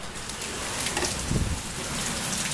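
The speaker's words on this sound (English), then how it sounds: "Dude, it is still just pouring out here." Heavy rain pours outdoors in Tampa as a dense, continuous hiss that swells slightly midway, with no voices.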